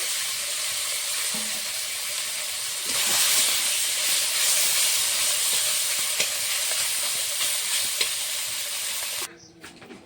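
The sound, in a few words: small fish frying in a wok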